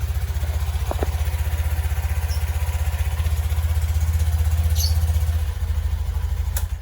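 Honda Scoopy 2025 motor scooter engine idling steadily with a fast, even putter, close and constant, a faint click or two near the start.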